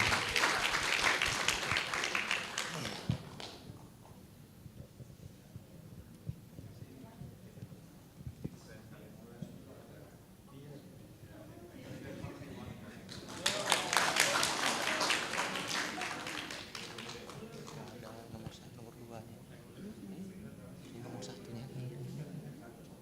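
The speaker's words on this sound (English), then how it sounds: "Let's give our best applause to the winner." Audience at an international graduate students' and scholars' conference applauds the winners in two bursts of clapping, one at the start and another midway. Talk carries on between and under them.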